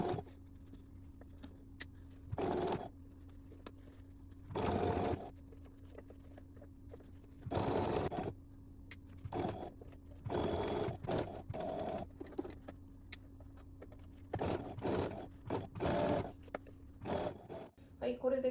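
A sewing machine stitches around a fabric collar in several separate runs of a few seconds each, a close whirring with pauses between bursts, while someone talks quietly in the gaps.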